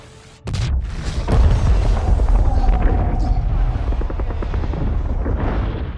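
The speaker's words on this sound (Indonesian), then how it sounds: "hingga ledakan terjadi di mana-mana" A sudden heavy boom kicks off a sustained, loud rumbling roar of explosions and chaotic battle noise that continues throughout, as rebels and Wicked forces clash in a film.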